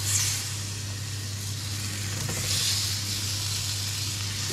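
Lamb chops sizzling in a very hot cast iron skillet, a loud, steady hiss and crackle of searing meat with a low background hum, close and continuous.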